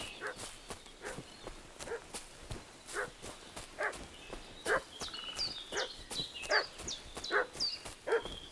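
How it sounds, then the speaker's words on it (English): A dog in Kingdom Come: Deliverance II barks and whimpers in a steady string of sharp yelps, fairly close and alone with no talk, with faint footstep-like thuds underneath. "What's that dog making such a fuss about?"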